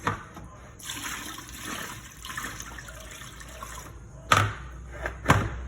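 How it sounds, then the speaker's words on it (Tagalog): Mulberries being washed under running tap water in a small sink, a steady close splash and trickle with a couple of thumps near the end. "Hugasan lang natin na mabuti. Kasi malikabok."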